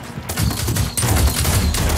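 Dense, rapid gunfire from the Realm Royale battle royale game rattles on for the full two seconds, loud and close, with overlapping bursts and no talking.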